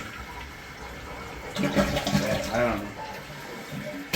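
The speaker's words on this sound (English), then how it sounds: "Make sure it gives a longer flush." A dual-flush toilet flushes on its second button and the tank refills with water, giving a steady rushing hiss. A voice speaks over the water partway through.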